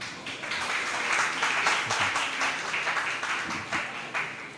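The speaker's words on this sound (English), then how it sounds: "A round of applause for them." Steady applause from an audience at a university Chancellor's Day celebration, sustained crowd clapping at moderate distance throughout with no pauses.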